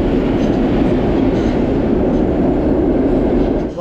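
Loud, close rumble of a train rolling in, a continuous heavy roar with faint clattering, no voices.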